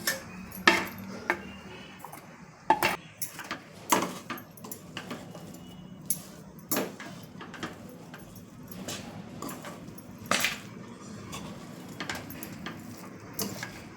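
A spoon scraping and clinking against a pan while a coconut, almond and jaggery mixture is stirred for halim ladoo, sharp irregular metallic taps spread throughout at a soft, close level.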